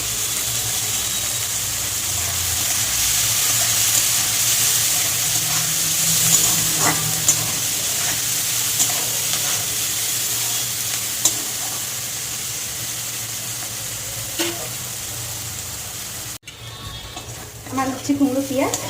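Food fries and is stirred in a wok with a low steady sizzle and scattered scraping clicks, running continuously before a short cut and a burst of clattering near the end.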